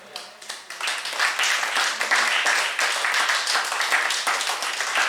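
A church congregation claps and applauds to acclaim Jesus Christ, a steady, sustained wash of many hands that fills the room, fairly loud and continuous throughout.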